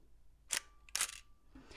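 A DSLR camera shutter fires twice, each release a crisp double-click snap of mirror and curtain, close and clear in a quiet room, with a fainter click trailing at the end.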